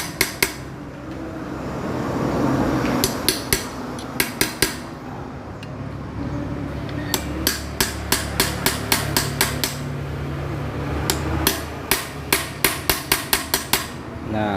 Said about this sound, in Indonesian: bagian sini ini sudah benar-benar rusak, jadi kita lakukan pembetelan saja